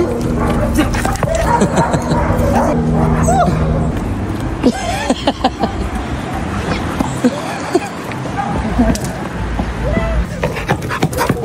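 Several dogs at an animal shelter bark, yip and whimper in a busy, overlapping chorus that runs throughout, with people talking nearby and some traffic noise behind.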